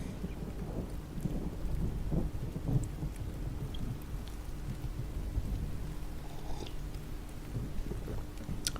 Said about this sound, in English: Bring the Thunderstorm ambient into the game